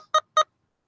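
Sledge synthesizer playing a basic starting patch: two short, bright, tonal synth notes evenly spaced, clean and alone against silence.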